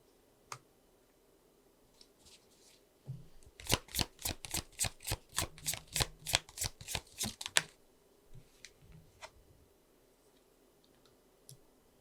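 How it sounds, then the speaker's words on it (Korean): Tarot cards are riffle-shuffled in a quick run of about twenty crisp clicks over four seconds, close and clear, followed by scattered single snaps as cards are drawn and laid down in a quiet room. "추가 카드를 뽑아보도록 할게요"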